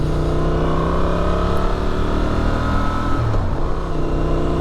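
A Honda XL750 Transalp's compact twin engine revs up and holds a steady, loud drone with a low rumble throughout, close by and with no talking.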